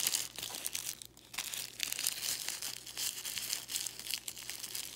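Tissue paper crinkles and rustles up close as a handmade paper flower is pushed and shaped, a continuous papery crackle with no talking.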